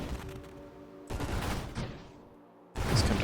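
Burst-fire weapon in the space shooter Nova Drift: loud clusters of rapid, crackling shots come in separate bursts with short gaps between them, and the final burst is the sharpest.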